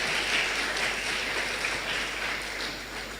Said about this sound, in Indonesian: Saya ingin panjenengan tepuk tangan yang luar biasa untuk gerakan yang sudah dilakukan.